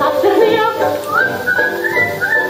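Melodic whistling with gliding pitches, bright and fairly loud, carried along a lively wedding-style song in Latvian, with accompaniment underneath and no clear speech over it.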